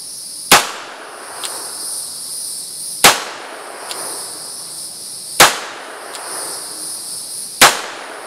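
Four sharp gunshots from a Dan Wesson .357 revolver on a shooting range, fired at steady intervals of a few seconds, each a loud close crack with a ringing tail and fainter shots in between.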